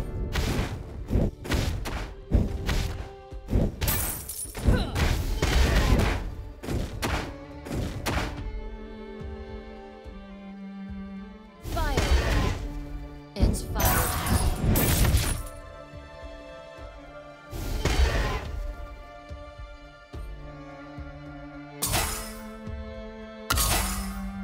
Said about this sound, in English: Your team has destroyed the tower.